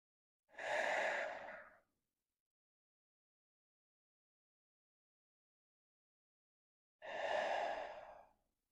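Two long, deep breaths during a slow yoga practice, each a soft, airy exhale of about a second. A long stretch of near silence separates them, and the breathing is close and clear with no talk.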